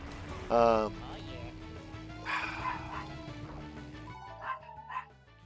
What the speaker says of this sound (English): You hear barking in the background.